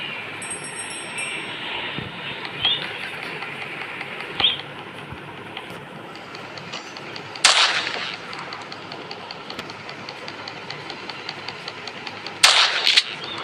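Gunfire from a shooting video game crackles in a steady stream of rapid shots over a constant hiss of game ambience, with a few louder, heavier bursts standing out; no one speaks over it.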